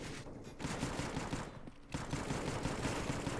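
Five-SeveN pistol fire in a Counter-Strike match, quick bursts of sharp shots at moderate distance with a short pause partway through, over game background noise.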